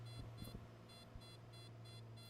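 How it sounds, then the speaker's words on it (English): An alarm beeps in short repeated bursts in the cockpit of a Piper Turbo Arrow in Microsoft Flight Simulator during a stall, regular and steady over a constant low engine drone, with a few faint clicks. "Apologies for the beeping."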